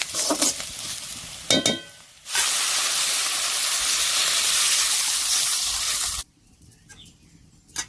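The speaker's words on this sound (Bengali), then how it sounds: "পেঁয়াজ ভাজা হয়ে গেছে জল দিয়ে দিচ্ছি" After a few soft clinks and frying crackles, water poured onto fried onions in a hot pan erupts into a loud, sustained steaming hiss lasting about four seconds, then cuts off sharply into quiet simmering.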